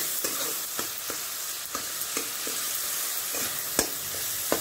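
Tomatoes frying in a pan under a continuous moderate sizzle while a utensil stirs them, leaving sharp scraping taps scattered at irregular intervals.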